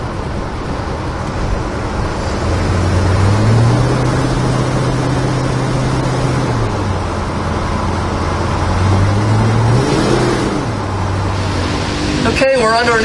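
Continuous engine drone and road rumble from a 1984 Chevrolet El Camino cruising steadily, with a voice talking over it.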